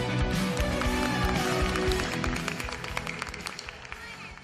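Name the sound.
audience clapping for the parents at a school annual day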